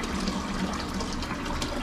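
Broadband rushing and gurgling of water moved by a small aquarium pump feeding a DIY water collection and return setup, steady and continuous at close range with no talk.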